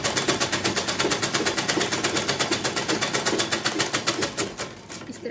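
A sewing machine runs fast and steady as it stitches around a shirt neckline, its rapid needle chatter forming an even mechanical rattle throughout, close and loud, slowing slightly near the end.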